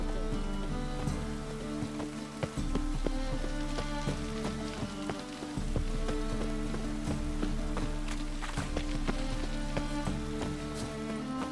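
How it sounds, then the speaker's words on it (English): Heavy rain falls in the video game The Witcher 3. It makes a steady, fairly quiet hiss with dense patter and scattered sharper drops throughout. "Raining buckets. Must be mad running around with this rain."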